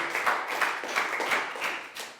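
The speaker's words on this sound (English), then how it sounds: "High five, round of applause for 2" Brief round of clapping from a Year 4 class during a health lesson, a quick run of claps of moderate loudness with no talk over it.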